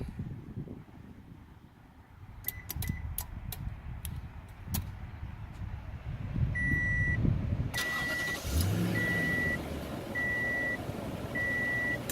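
A Toyota Tundra starts by remote starter: a low engine rumble builds and settles into a steady idle, with short electronic beeps chirping at a regular pace.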